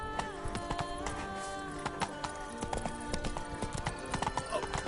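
Roach, Geralt's horse in The Witcher 3, gallops with rapid rhythmic hoofbeats and an occasional snort over game music, a busy continuous pounding throughout.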